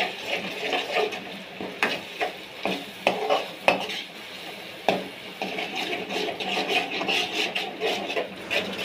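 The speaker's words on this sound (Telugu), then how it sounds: "ఎగ్స్ వేసిన వెంటనే ఇట్లా పొడి పొడి అయిపోతుందా మొత్తం కలుపుకోండి" Eggs stirred and fried in a pan, with repeated scraping and stirring strokes over a light, steady sizzle, close up and with no talking.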